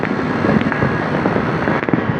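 New Year fireworks and firecrackers crackle in the distance as a dense, continuous wash of sound, with a few slightly sharper pops rising out of it.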